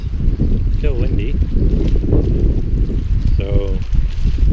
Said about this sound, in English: and of course it's still windy